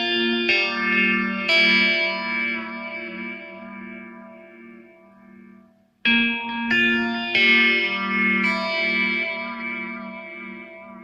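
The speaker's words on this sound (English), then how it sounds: "For the next part you can use the phaser, a little bit of delay." Electric guitar played through phaser and delay pedals rings out in two phrases of sustained, swirling notes with echoing repeats, close and alone, with a short gap in the middle.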